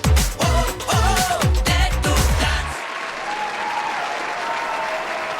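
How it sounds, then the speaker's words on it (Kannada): Loud applause from a studio audience cheers a dance team on a televised dance competition show, dense clapping over loud music that cuts off partway, leaving the clapping to continue alone at a steady level. "ಬಲೆ ಜೋರಾದ ಚಪ್ಪಾಳೆ"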